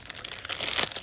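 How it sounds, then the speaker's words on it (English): Plastic packaging crinkles and tears as a package is unwrapped, a brief, fairly quiet rustle with no voice. "I'm gonna unwrap while I talk."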